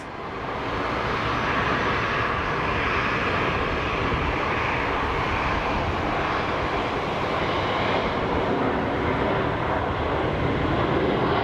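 A jet airliner rolls out after landing at Sky Harbor International Airport, its engine roar broad, steady and loud for the whole stretch, with no voices.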